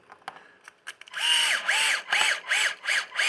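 Hand drill driving screws into new plastic RC car gearbox parts, starting with a few light clicks and taps, then a run of loud whirring bursts that rise and fall in a pulsing rhythm, close up with no speech.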